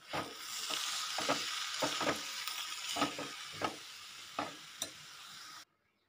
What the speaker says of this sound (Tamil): அடுத்து தேவையான அளவு உப்பு போட்டுக்கலாம். நல்லா கலந்து விட்டுடலாம்